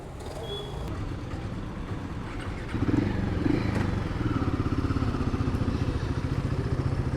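A Royal Enfield Himalayan 450 motorcycle idles and pulls away through city streets, its steady low thumping engine growing a little louder partway through, with faint traffic around it.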